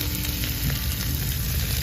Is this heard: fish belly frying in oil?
yes